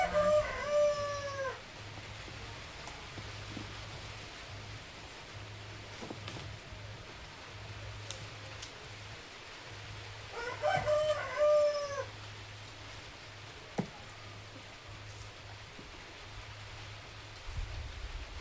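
Rain falling outdoors over a shallot-cutting spot, a soft, steady hiss throughout, with a rooster crowing twice nearby and a low hum beneath.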